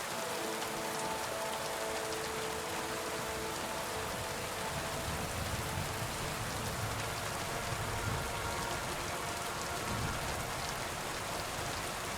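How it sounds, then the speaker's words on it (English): Steady rain in the video game Kingdom Come Deliverance II falls near a herb garden, a dense, even patter that fills the scene without pause, with no talking over it. "It's been raining all day."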